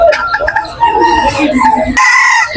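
A large rooster crowing close by at a duck and chicken market, with one loud drawn-out crow followed by clucking and market bustle.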